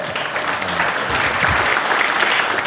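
An audience at a government innovation workshop gives a steady burst of applause, dense clapping filling the room from start to finish with no talk.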